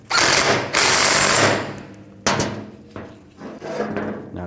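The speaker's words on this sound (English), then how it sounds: "And tighten down the nut." Wrench tightening the nut on a pulley of a power steering pump on a 2004–08 Nissan Maxima, with loud rasping and clattering bursts separated by brief pauses, close and without talk.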